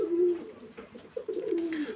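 Rajshahi Giribaj pigeons coo close by, a few soft, rolling low calls in quick succession, clear and without talk.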